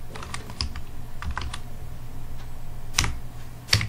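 Subject names typed on a computer keyboard into an MS Word document, a close, quiet patter of irregular key clicks with a few sharper, louder strokes near the end.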